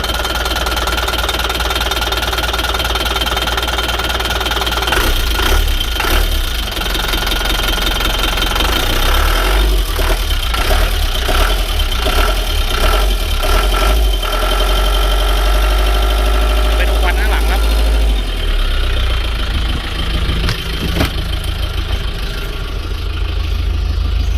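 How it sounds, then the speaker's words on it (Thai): An old engine idles just after its first start in ten years, a loud, steady, close-up rumble with a rhythmic knocking throb and rattling vibration that runs continuously throughout. "สิบปีครับสตาร์ทครั้งเดียวติดเลยครับ เครื่องนิ่งดีครับ"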